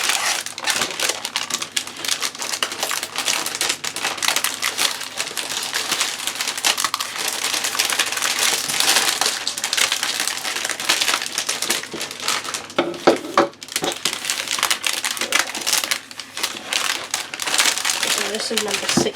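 Plastic packaging of a Warhammer miniatures pack is cut open and handled, making steady, close crinkling and crackling that runs continuously with scattered sharper snaps.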